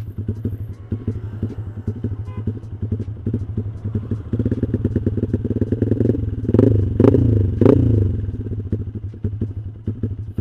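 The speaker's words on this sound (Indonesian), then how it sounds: "Kalau digas juga normal, langsung turun, jadi nggak ada nyangkut-nyangkutnya ya." A Yamaha Mio-style scooter engine, freshly tuned to idle rich near 1700–2000 rpm, putters steadily up close, then is blipped with a few sharp revs that drop straight back to idle.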